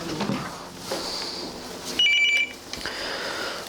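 A telephone rings once, a short electronic trill of about half a second, inside a quiet room with faint background rustling.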